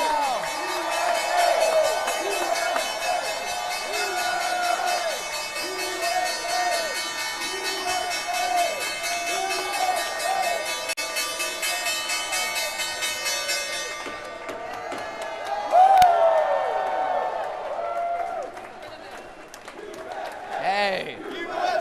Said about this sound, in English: now for the closing bell